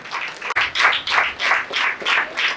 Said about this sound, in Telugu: Let's all welcome our bishop and his eminence with a good clap